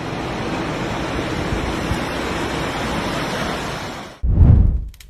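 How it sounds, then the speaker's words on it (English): Ocean waves break along a coastline, a steady broad wash of surf that cuts out abruptly and is followed by one deep, loud booming surge near the end. "It's hard not to wonder as the waves keep coming"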